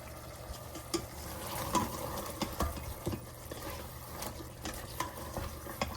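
Chicken and rice being sautéed in an Instant Pot for chicken pulao, with a steady low sizzle broken by repeated scraping and stirring clatters at close range, and no talking.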